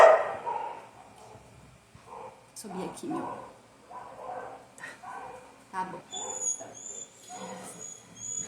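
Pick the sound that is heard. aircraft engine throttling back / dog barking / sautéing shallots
dog barking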